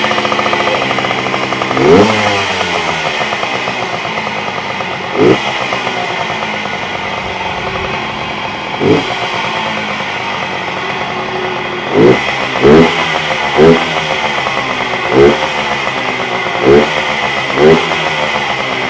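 A 1970s–80s moped with a handlebar-mounted choke is kick-started, then idles with a buzzy, close two-stroke-style drone. The rider blips the throttle repeatedly in short, sharp revs through an exhaust that may be missing baffles.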